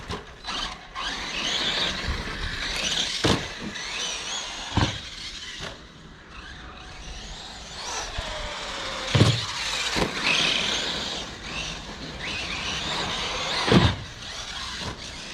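Team Associated DB8 RC buggy with a Delrin transmission running outdoors, giving a steady whining motor and drivetrain buzz that rises and falls, with occasional sharp knocks and squeals from landings.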